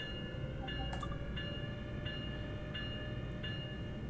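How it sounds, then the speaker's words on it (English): A diesel locomotive's bell clangs at a steady, regular rhythm over a low engine rumble in the Train Sim World game on the Northeast Corridor, close and moderately loud with no talk. "Turn that damn bell off"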